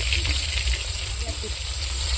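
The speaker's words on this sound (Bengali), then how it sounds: "এখানটায় বেগুনগুলো ভেজে নেবো একে একে করে" Brinjal slices fry in a pan with a steady, dense oil sizzle and hiss that runs close and continuous throughout.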